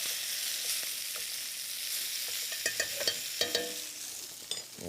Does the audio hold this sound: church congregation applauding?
no